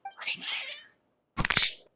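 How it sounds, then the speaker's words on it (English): Cats in Genshin Impact meow twice, a drawn-out wavering cry followed by a sharper, louder yowl after a short pause, both close and clear with no talk. "Your cats seem pretty worked up."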